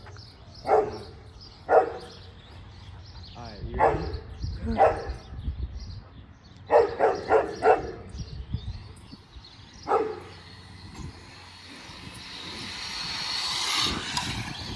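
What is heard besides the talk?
dog barking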